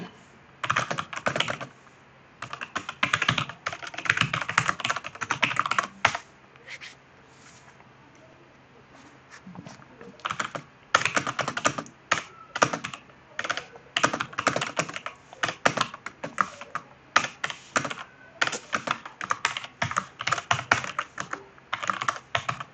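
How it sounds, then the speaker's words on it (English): Fast bursts of typing on a computer keyboard, with dense clattering key presses broken by short pauses and a few brief quiet gaps. "I don't know what I'm typing today."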